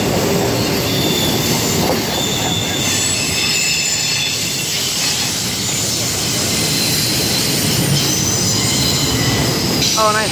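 Burlington Northern freight train rolling past near Roseville, steel wheels squealing steadily over a loud, continuous rumble of railcars, close and sustained throughout.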